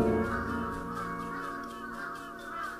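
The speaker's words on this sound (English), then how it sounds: "You see these crows?" Crows cawing in the horror video game Akai Onna, harsh repeated caws over a steady droning ambient background, alone with no talk.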